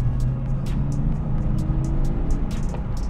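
A Porsche 911 Carrera of the 993 generation runs at low revs, its engine giving a steady, close, droning rumble with a faint rhythmic pulse, heard alone without talk.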